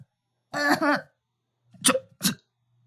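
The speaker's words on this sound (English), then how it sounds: "this seemed to make her cough" Three short, harsh coughing bursts from a single female video game character in Corpse Party: Book of Shadows, the first a longer double cough and two sharper ones after a pause, fairly close.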